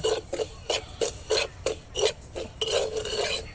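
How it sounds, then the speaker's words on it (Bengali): Semolina being dry-fried and stirred in a pan while making date-juice pitha with milk and coconut, heard as a rhythmic series of close, loud scraping strokes, about ten in quick succession, alone without talk. "সুজি ভাজা হচ্ছে"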